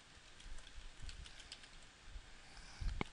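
Fingers type text on a computer keyboard in a quiet room, giving faint, scattered key clicks in an uneven rhythm, then a slightly sharper cluster of taps at the end.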